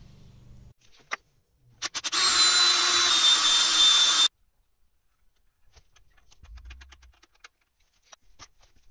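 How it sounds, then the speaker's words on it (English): A loud, steady high-pitched whine of a power drill boring a hole into metal for tapping, about two seconds, framed by scattered clicks and light handling noises. "I'll drill and tap that and"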